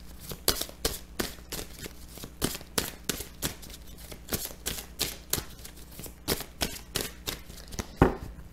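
A tarot deck being cut and shuffled by hand, with a steady run of crisp card snaps and riffles, close and fairly quiet, some strokes louder than others, and no talking.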